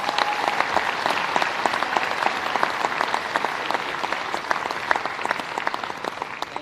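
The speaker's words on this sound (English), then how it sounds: "Can we give a round of applause to those players?" A crowd at a netball nationals final gives sustained applause for announced players, dense even clapping continuing steadily throughout at a moderate distance with no voices over it.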